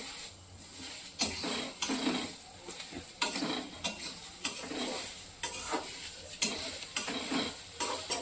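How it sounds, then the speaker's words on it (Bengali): Puffed rice bhel with chanachur being stirred in a pan, a repeated scraping and rustling of a spoon against metal in irregular strokes, close and moderately quiet with no talk. "চানাচুর দিয়ে দিলাম, এবার ভালো করে একটু নেড়ে দেবো।"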